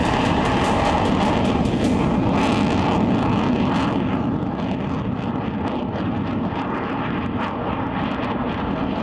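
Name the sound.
fighter jets roaring over the expressway airstrip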